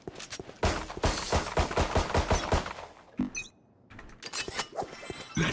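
Rapid gunfire in the tactical shooter Valorant during a ZETA versus RRQ match, with bursts of automatic fire crackling loudly and in quick succession, a short pause, then more shots.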